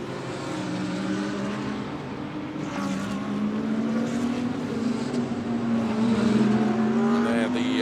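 A Porsche GT race car pulls away down the pit lane at Oschersleben during an ADAC GT Masters race, its engine droning steadily with a rising pitch as it accelerates, loud and continuous under commentary.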